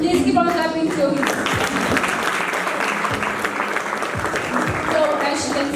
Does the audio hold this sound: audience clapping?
yes